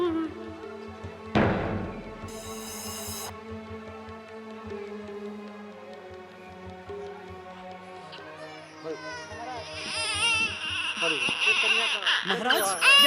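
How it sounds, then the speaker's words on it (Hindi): Infant crying staged during a Ramleela stage play, a thin wailing cry rising near the end over stage music and a loud thump early on, with actors talking throughout. "ये रोने की आवाज कहाँ से आ रही है?"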